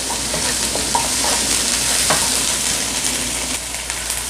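Chopped onion fries with cumin in a pan, a bright, dense sizzle close by with scattered clicks and scrapes as a spoon stirs through it.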